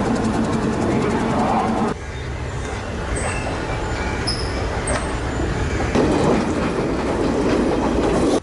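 A train passing at a railway station in Sri Lanka, loud and close, with continuous rumbling, rhythmic clickety-clack of wheels over rail joints and a few high wheel squeals, no talk over it.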